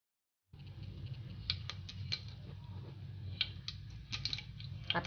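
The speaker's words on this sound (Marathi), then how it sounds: "मोहरी तडतडू देऊ आपण." Mustard seeds and asafoetida spluttering in hot oil in a kadhai, a faint low frying bed broken by scattered sharp pops and crackles that grow busier toward the end.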